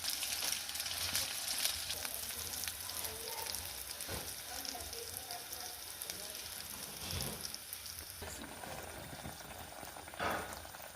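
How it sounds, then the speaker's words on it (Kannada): A spoonful of sweet batter for Ellappa, an Udupi-Mangalore festive sweet, frying in hot oil, giving a steady fizzing bubble at low level, close and continuous, with a couple of faint soft knocks and no clear speech. "ನೋಡಿ ಫ್ರೆಂಡ್ಸ್ ಎಣ್ಣೆ ಬಿಸಿ ಆಯಿತು ಒಂದು ಸೌಂಟು ಹಿಟ್ಟು ಹಾಕೊಂಬ"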